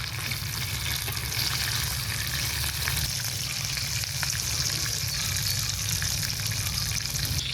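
Chicken pakoras fry in hot oil with a dense, continuous sizzle and bubbling crackle that stays steady and close throughout.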